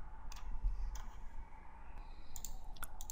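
A few faint, sharp mouse clicks on a computer during an Ubuntu server install in VirtualBox, sparse taps over a low steady room hum.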